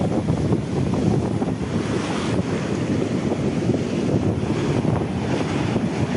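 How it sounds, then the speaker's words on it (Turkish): Steady roaring wash of sea waves in India with strong wind buffeting the microphone throughout, no clear voices. "Çok güzel ya dalgalar."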